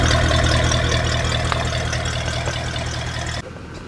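Mercedes C63 AMG engine running with its exhaust valves open, a loud, steady, close-up drone with a brief blip near the end, then suddenly quieter as the sound cuts back.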